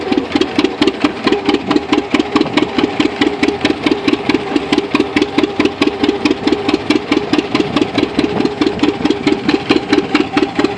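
A Farmall tractor engine runs at a tractor pull track at a farm park, chugging loudly and steadily in a fast, even rhythm with no voices.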